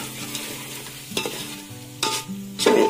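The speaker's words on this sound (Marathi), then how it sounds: "इथं सगळे मसाले आता ह्याच्यामध्ये टाकलेत पातेल्यात. सो आता ते आणि व्यवस्थित मिक्स करून घेणार आहे." Chicken masala stirred in a metal pot on a wood-fired stove, spices sizzling steadily while a spoon scrapes the pot in three or four distinct strokes, close and fairly loud, with no talking.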